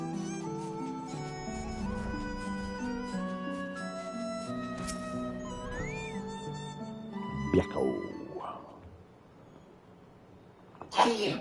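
A person sneezes sharply while Final Fantasy XIV game music plays underneath; a loud, abrupt burst cuts through the melody, with another sudden noisy burst near the end.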